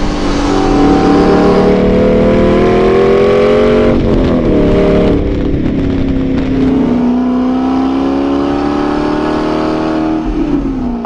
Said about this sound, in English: I like the sound of this V8 better than the V12